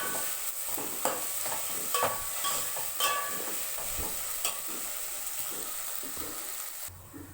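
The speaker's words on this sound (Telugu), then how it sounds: "బాగా ఫ్రై చేయాలండి అల్లం వెల్లుల్లి పేస్ట్ మాత్రం." Ginger garlic paste fries in hot oil for a vegetable pulao, with a continuous close sizzle. Repeated spatula scrapes and taps stir through it, and the sound drops away at the very end.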